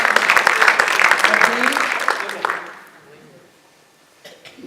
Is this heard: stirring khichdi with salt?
no